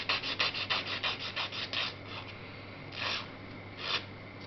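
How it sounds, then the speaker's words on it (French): A coarse nail file shortens gel fingernails with a quick run of short, rhythmic rasping strokes, then slower, spaced single scrapes, close and fairly quiet against a faint steady hum. "on dépose la lime en dessous et on incline un petit peu et on raccourcit comme ça"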